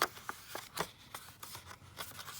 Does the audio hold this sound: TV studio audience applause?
no